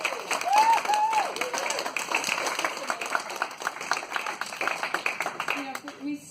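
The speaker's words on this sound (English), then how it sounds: "can we give a round of applause for what they have done?" Audience applause at a talk on personality type and style, dense clapping that stays steady and then thins out, with a few voices audible near the end.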